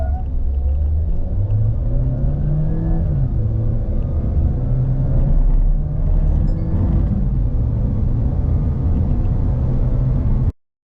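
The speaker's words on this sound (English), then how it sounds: "We saw the acceleration of this car." A Mahindra XUV700 petrol SUV accelerates hard in a 0 to 100 km/h run, its engine rumbling loud and close with rising pitch through gear changes for about ten seconds before cutting off abruptly.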